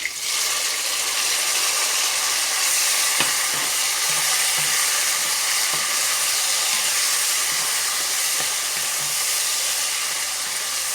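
Tomatoes frying with cumin and onion in a pan give a dense, even sizzle, with faint clicks of stirring now and then.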